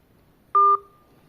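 A single telephone keypad tone, one short clear DTMF beep of about a quarter second, sounds once against near silence.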